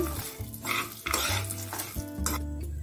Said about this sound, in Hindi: बस अब हम इसमें जो ड्राई फ्रूट फ्राई करके रखे थे उसे डाल देते हैं इसे करेंगे हम अच्छी तरह से मिक्स